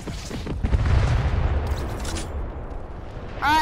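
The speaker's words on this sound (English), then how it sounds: "I got an airstrike." Airstrike explosions from a Fortnite match land in a quick cluster of deep booms and rumbling blasts, loud and close, then trail off into a lingering rumble with a short burst at the end.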